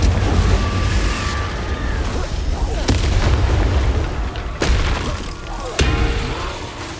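Repeated Confringo fire spell blasts in the Hogwarts Legacy video game during combat, sharp booming bursts landing every second or so over a dense, loud battle soundscape.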